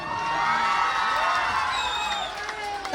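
Audience cheering and whooping at a live comedy show, a steady crowd roar with shouts rising over it, fairly loud throughout and swelling again at the end.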